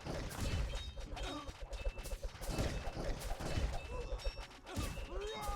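Rapid volleys of marksman tower barrage shots crack and thud in Kingdom Rush Frontiers, layered with game impacts and crashes in a busy, continuous battle din.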